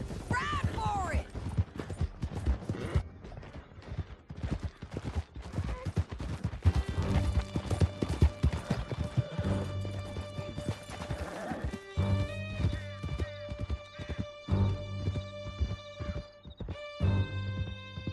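Horses gallop in Red Dead Redemption 2 with fast rhythmic hoofbeats, a whinny near the start and clattering crashes, all under game music and intermittent voices.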